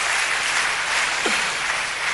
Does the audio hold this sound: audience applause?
yes